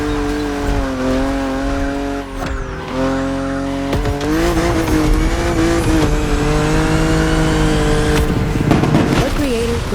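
A BMW car races in The Crew Motorfest video game with a loud, close engine revving and shifting through gears, punctuated by squealing tires and skids.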